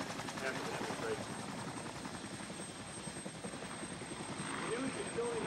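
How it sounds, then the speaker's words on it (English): A UH-60 Black Hawk Army utility helicopter flies nearby during a military flight demonstration, its rotor and engine making a steady, loud, continuous drone that swells slightly toward the end, with faint talk underneath. "The newest utility helicopter in the Army inventory, the UH-60 Blackhawk"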